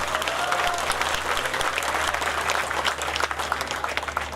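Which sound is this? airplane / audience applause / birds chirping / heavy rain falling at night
audience applause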